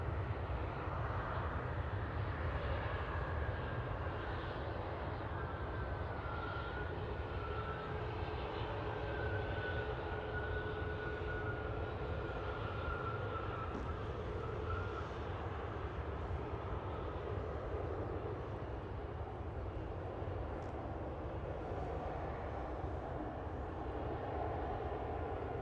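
A distant Embraer E190 jet at Manchester Airport gives a steady, broad engine roar that holds evenly throughout, with a faint rising whine running through the middle and no talk.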